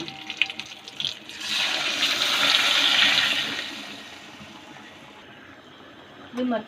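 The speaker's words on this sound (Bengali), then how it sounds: "জল, আরও একটু সামান্য জল দিয়ে দিচ্ছি।" Water splashes and pours into a pan of mustard hilsa fish for a few seconds, rising then fading, with a brief clink near the end and a voice nearby.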